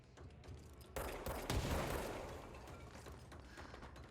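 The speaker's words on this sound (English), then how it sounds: "That's a grenade." A grenade goes off in the action video game Control: a loud, booming blast with a long rumbling decay, set amid a steady clatter of gunfire and combat noise.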